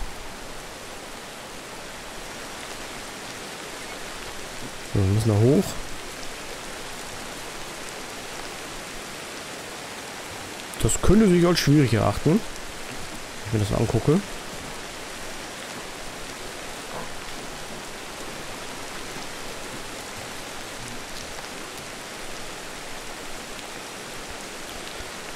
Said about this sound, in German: Ach, natürlich regnet es jetzt.